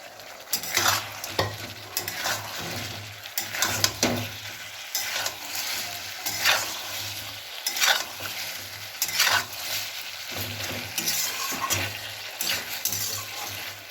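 Fried cauliflower florets stirred into a sizzling manchurian sauce in a pan, with repeated rhythmic scraping strokes of a spatula over continuous frying crackle, up close and without voices.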